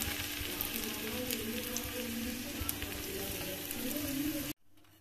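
Finely chopped garlic hits hot ghee and sizzles in a dense, steady, crackling fry for several seconds, then cuts off abruptly near the end.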